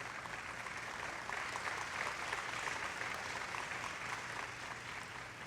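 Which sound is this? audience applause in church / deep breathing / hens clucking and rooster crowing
audience applause in church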